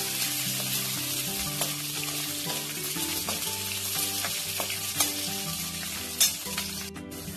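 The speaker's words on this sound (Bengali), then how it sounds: "গোটা গরম মশলা দিয়ে দিচ্ছি। কাজু কিশমিশ দিয়ে দিচ্ছি।" Whole garam masala with cashews and raisins sizzles steadily in hot oil for Bengali moong dal, a dense continuous crackle with a few sharper pops near the end and no talking.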